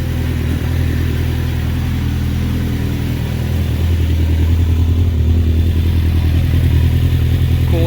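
A motorcycle engine idles steadily while warming up after a coolant flush, a close, continuous low rumble with a slight rise in intensity partway through and no voices.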